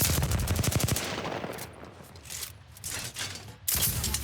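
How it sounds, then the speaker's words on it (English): Rapid bursts of automatic gunfire in a shooter video game, a dense fast volley at first, then scattered shots and a renewed loud burst near the end. "They're shooting at me."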